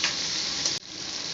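Semiya mixture being sautéed in a hot pan gives a steady close sizzle with soft stirring scrapes, a brief dip near the end, and no talk over it.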